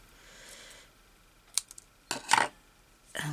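Scissors snip through craft thread while trimming a small sewing-journal embellishment, a few sharp close clicks and crisp cuts after a quiet start, with no talking.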